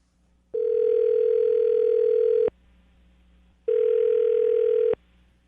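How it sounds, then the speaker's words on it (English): Two sustained, steady telephone dial tones, each lasting about two seconds with a short gap between, loud and clean with no talking over them. "I'm going to dial the phone number right now"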